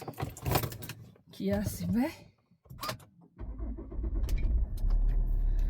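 A car engine starts and settles into a steady low idle after clicks and a brief whirr, with a person talking before it turns over.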